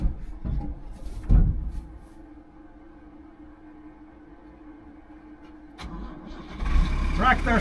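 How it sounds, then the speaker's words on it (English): A farm tractor on harvest day cranks over after a long near-silent pause, then catches and settles into a rough, rumbling idle close to the microphone. "Tractor started, woohoo!"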